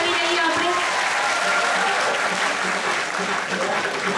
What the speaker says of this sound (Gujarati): તાળીઓથી વધાવી લઈએ આપણે.